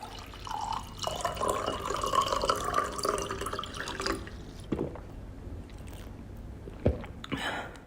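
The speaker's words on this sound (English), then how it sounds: "He pours himself a drink and drinks from it." A drink poured and then sipped within a pop song interlude, with a watery trickle and liquid dripping sounds followed by a few soft wet gulps and clicks, faint and close.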